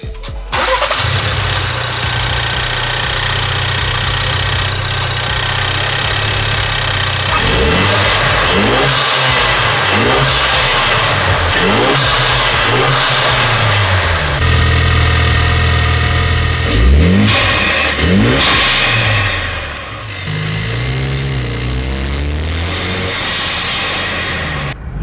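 A Ford Maverick truck engine with a new aftermarket intake starts and revs hard several times, roaring up and settling back to idle, loud and close throughout.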